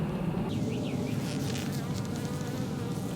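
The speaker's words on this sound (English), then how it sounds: "We seem to have more bees, that's good." Bees buzzing around a hive fed with pollen patties outdoors, a dense steady hum of many insects with individual bees whining past close by, continuous and moderately loud.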